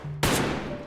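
A single sharp gunshot from the video game DayZ, set on the Namalsk map, cracks loud and close, then rings off in a short decaying tail over faint background hum.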